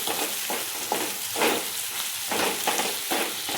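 Tomatoes with salt fry in a pan, giving a close, steady sizzle with repeated rhythmic scraping stirs of a spoon.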